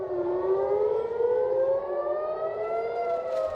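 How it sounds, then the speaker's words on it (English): Air raid sirens blare over the border town of Nahariya in northern Israel, a loud, sustained wailing tone that slowly rises in pitch, heard alone. "after air raid sirens blared across the border town of Nahariya"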